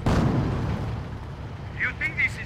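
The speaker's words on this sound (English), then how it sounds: "Mortar here! Mortar here!" Mortar fire in the Company of Heroes strategy game: a heavy low boom opens, followed by rumbling battle noise and shouted unit voices near the end.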